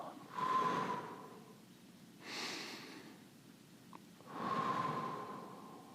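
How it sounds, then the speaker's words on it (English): Slow, deep breathing at close range: three long airy breaths, inhale and exhale, spaced a couple of seconds apart over a quiet background. "Take a second, just focus on your breathing."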